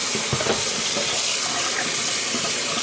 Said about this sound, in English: at this point, you want to run cold water over them